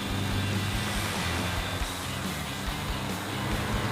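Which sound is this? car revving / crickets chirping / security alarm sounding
car revving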